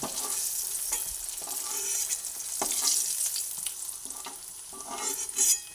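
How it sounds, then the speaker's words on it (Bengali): Pieces of spiny gourd (kakrol) fry steadily in hot oil, a continuous crackling sizzle with occasional stirring scrapes and clinks close by, no voices present. "বাদ বাকি কাঁকড়গুলোকেও তেলের মধ্যে দিয়ে দিচ্ছি তেলের মধ্যে দিয়ে ভেজে নিই"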